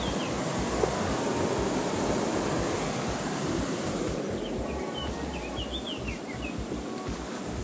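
River water rushing steadily in a mountain gorge at Garganta de Cuartos near Losar de la Vera, Cáceres, a constant broadband wash with no talk and faint birdsong over it.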